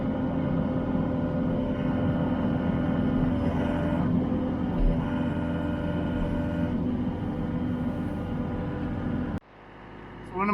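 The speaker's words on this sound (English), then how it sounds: "let's just rev this thing up to full throttle" A Titan HD tree shear, a forestry mulcher attachment, roars at full throttle with a dense, steady engine drone, loud and close, before cutting off abruptly near the end.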